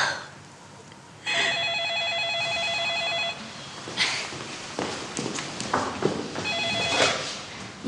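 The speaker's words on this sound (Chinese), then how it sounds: "黄总的电话。" A telephone rings with an electronic trill in two bursts, separated by footsteps and shuffling movement in a room; the ringing is fairly close and clear.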